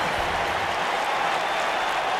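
A dense, steady roar of a sold-out arena crowd cheering in the WWE 2K wrestling game, continuous and loud with no gaps.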